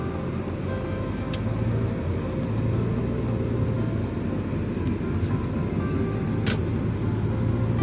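A car drives along Naberezhnaya Street in the stanitsa of Leninggradskaya, Krasnodar Krai, its steady engine and road rumble filling the cabin continuously with no pauses, a faint ticking and brief higher noises rising above the constant drone.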